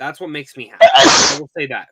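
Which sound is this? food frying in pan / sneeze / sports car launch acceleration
sneeze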